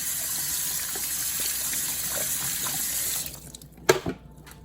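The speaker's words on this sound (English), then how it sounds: "Wash your hands." Tap water gushes steadily into a kitchen sink while hands are washed, a constant close hiss that cuts off after about three seconds, followed by a few soft splashes and drips.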